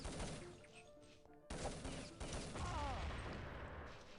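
Gunfire and explosive blasts from a competitive first-person shooter match, with a loud grenade burst and crashing impacts over a continuous backdrop of battle noise.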